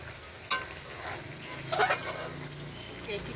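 Chicken cooking in a pan, with a soft sizzle and a few stirring clinks and scrapes under a voice talking nearby.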